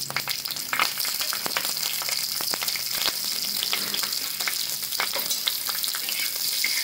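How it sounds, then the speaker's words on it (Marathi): Grated bitter gourd fries in oil in a pan, giving a steady, close sizzle with frequent small pops and stirring scrapes that continue throughout. "आता याच्यामध्ये तेल टाकून घेते। आता याच्यामध्ये 10-12 मिनिटं भाजून घेते।"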